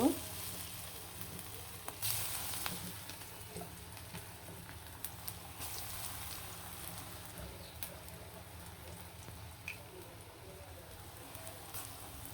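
Onion fritters (piyaju) frying in oil give off a soft, steady sizzle and bubbling that runs throughout at a low, faint level, with no talking.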